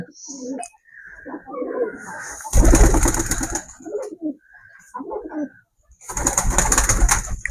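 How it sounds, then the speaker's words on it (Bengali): Pigeons coo in a home loft with young chicks and eggs, low soft calls repeating close by amid bursts of rustling, wing-flapping noise, with a voice talking in between. "দেখতে পাচ্ছ সব কবুতরগুলো ফাঁকে আছে"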